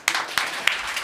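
A small crowd at the opening of a retail training centre claps to welcome a local MLA, a brief, moderately loud patter of hands with a few sharper individual claps.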